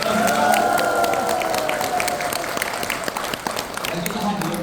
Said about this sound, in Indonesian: Cukup aja tepuk tangannya untuk kita semua.